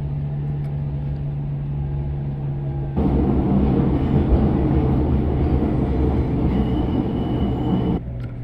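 Subway train running in the game Subwaysim Hamburg, a steady rolling rumble with a constant hum that grows louder partway through and then eases slightly near the end, with no talking.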